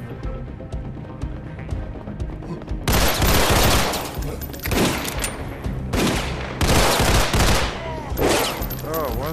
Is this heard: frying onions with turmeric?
no